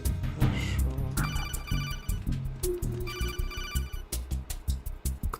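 A phone call ringing in the video game Metal Gear Solid 2, repeated electronic ringtone bursts in two clear groups, loud and close over a pulsing game soundtrack.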